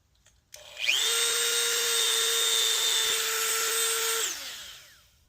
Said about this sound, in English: a little bit of rust coating, so I'm gonna Dremel it out